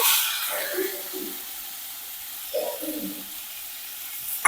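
Raw cashew nut curry being stirred in a pan, a soft sizzle with a few scraping spoon strokes in two short bursts, fairly quiet and close, no talking.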